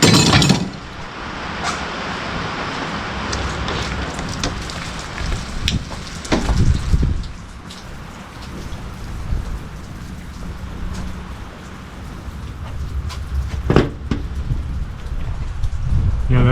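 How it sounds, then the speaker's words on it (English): Steady rain falls on a building site where metal sheeting is being installed on an office, a dense hiss with scattered sharper drips and clinks, a few louder knocks and splashes standing out near the middle and end. "just a rainy, messy day."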